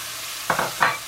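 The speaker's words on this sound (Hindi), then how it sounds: "अब मैं इसमें टमाटर और हरी मिर्चें डालूंगी।" Chopped tomatoes and green chillies land in a hot keema pan with garlic paste and fry in two or three short, close sizzling bursts over a quiet background.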